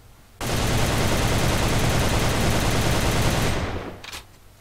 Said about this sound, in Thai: อันนี้คือนั่งยิงแบบกดค้างนะครับ